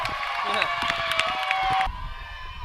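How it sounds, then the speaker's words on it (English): A crowd at a softball game cheers and shouts after a home run over the fence, a loud burst of mixed voices and whoops that cuts off abruptly partway through, leaving quieter chatter. "So let's just hear the crowd cheering."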